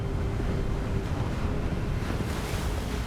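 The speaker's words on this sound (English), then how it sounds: "I can actually feel the wind on the controller. And the wind on my face, and my hair. And the waterfall right there." Waterfall and wind in the Hogwarts Legacy video game: a steady, dense rush of water and blowing air that stays loud and continuous throughout, with no voices.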